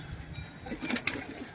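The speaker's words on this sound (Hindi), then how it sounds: "अब मैं सह सह कबूतर छोड़ता हूँ बाहरे को" A pigeon released by hand flaps its wings in a short, fluttering burst, close to the microphone, with faint background noise and no talk.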